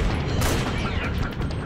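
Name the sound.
sniper rifle gunfire in Metal Gear Solid 4 video game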